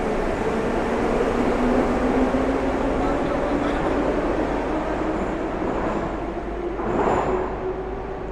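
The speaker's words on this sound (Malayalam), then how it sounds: "ആ ട്രെയിൻ പോകുന്നത്" A Tashkent metro train passing in the station, a sustained rumbling roar with a faint rising whine, heard fairly close and steady throughout.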